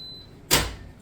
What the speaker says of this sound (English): and the door opens again